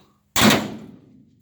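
A car door on a 1926 Ford Model T body, freshly lifted onto a stand in a hot rod shop, shuts with a single sharp slam followed by a short fading rattle.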